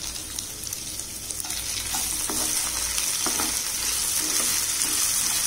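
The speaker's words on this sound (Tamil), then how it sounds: "ஒரு 2 நிமிஷம் ஆயிலே வதக்கிக்கலாம்." Onions sauté in oil with a little salt for a tapioca fry, producing a close, even sizzle that swells slightly with scattered spatters and stirring clicks, and no one speaks.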